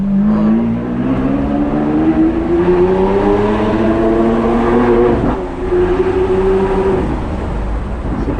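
A Lamborghini Aventador S accelerating, its engine revving in a long rising pull through the gears from inside the car, loud and droning, with a brief dip around a shift before climbing again.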